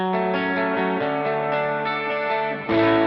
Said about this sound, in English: So here's the small reverb sound.